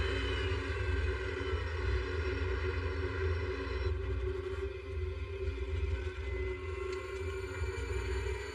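Jet airliner on final approach to Zurich Airport with flaps extending for landing, a steady loud engine roar and broadband rush heard from inside, continuous and even throughout, with no talk.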